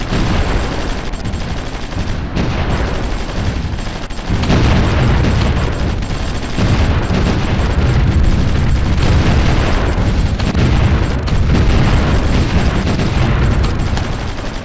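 Artillery bombardment in the strategy game Supreme Ruler Ultimate: a dense, continuous roar of booms and explosions with gunfire mixed in, loud and close throughout, with no talking.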